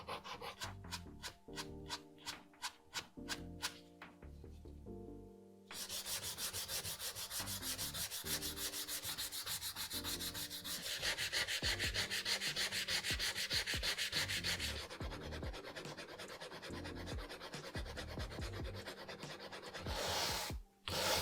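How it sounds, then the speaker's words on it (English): Sandpaper scrubs steadily across the leather of a pair of Jordan 5 sneakers, stepping from low grit up to fine grit, making close, continuous raspy rubbing strokes that pause only briefly, with no talking. "first we're going to start with sandpaper. I started with a really low grit, and then I worked up to around 800 or so"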